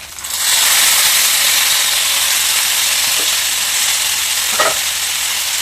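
Dried red chillies and curry leaves fry in hot oil on a low stove while tempering for pulihora. A loud, close sizzle bursts in suddenly and stays steady, with a couple of brief clicks from stirring.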